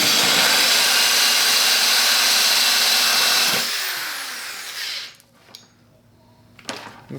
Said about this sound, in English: start it on an angle and get a little groove started